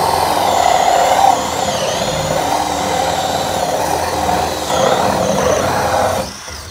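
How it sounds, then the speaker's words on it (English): A steady, loud whir of a power drill with a hole cutter boring through a black plastic IBC tank, running continuously with slight changes in pitch before winding down at the end. "So let's drill this hole."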